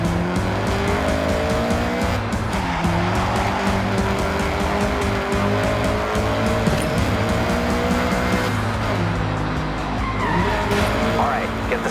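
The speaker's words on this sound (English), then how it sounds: "All right, get the CRX up to speed." A Honda CRX is driven flat out toward a bridge with the throttle floored, its engine holding a loud, steady drone with rising and shifting tones. Tire and road noise are mixed in, and voices come in faintly under the engine.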